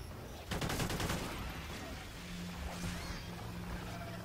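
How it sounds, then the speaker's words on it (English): Assault rifle gunfire in Call of Duty Ghosts Extinction mode: a dense burst of rapid shots rings out for about a second, then gives way to a steady hum of game noise and scattered distant impacts. "One more kill with the assault rifle."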